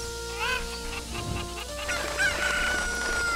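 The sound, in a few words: chickens clucking in Kakariko Village, video game Ocarina of Time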